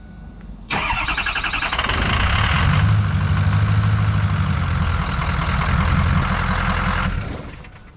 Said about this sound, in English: you can go ahead and start the truck up.